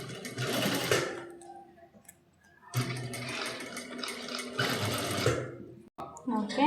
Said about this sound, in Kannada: ಇವಾಗ ಈ ಥರ ಎಡ್ಜಲ್ಲಿ ಸ್ಟಿಚ್ ಹಾಕೋದು.